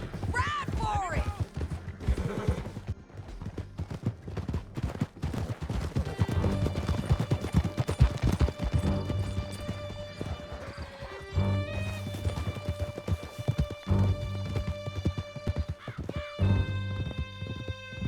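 Horse hooves gallop in Red Dead Redemption 2 during a canyon escape, a steady clip-clop running under swelling music and game sounds, with a voice speaking over the ride.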